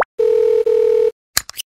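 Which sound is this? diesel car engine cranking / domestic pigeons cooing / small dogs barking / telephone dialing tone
telephone dialing tone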